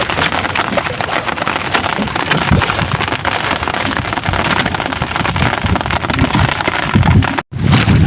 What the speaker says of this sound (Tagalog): yung ambon kanina ngayon ulan na ayan oh